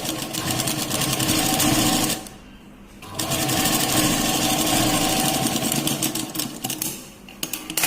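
Sewing machine stitching a beaded work blouse with a single presser foot, a loud rapid mechanical whirr that runs steadily, pauses briefly partway through, then resumes and ends with a few separate clicks.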